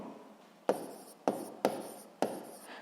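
Handwriting on paper, four short scratchy pen strokes in quick succession, each starting with a sharp tap and trailing into a soft scrape, close and quiet with no voices.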